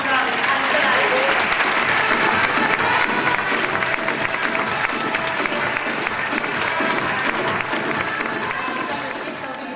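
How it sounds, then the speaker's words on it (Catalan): Audience applause at a national paper dress contest as a contestant walks onto the stage, dense sustained clapping throughout that fades slightly toward the end. "Un aplaudiment per a aquest primer noi que surt a l'escenari."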